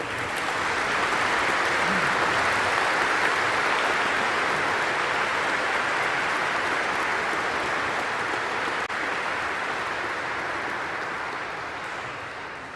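A graduation audience gives award winners a long, full round of applause, dense crowd clapping that holds steady for several seconds before gradually tapering near the end, with no voices over it.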